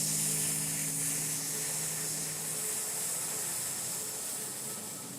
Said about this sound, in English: Exhale with a hissing sound.